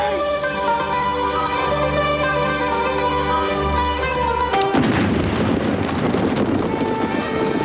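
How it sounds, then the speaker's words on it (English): A blast set off to clear a boulder blocking a road to a camp, heard as a sudden broad boom cutting through a sustained musical score, followed by a loud lingering rumble and debris wash. "It'll make a lovely explosion and clear the road to the camp."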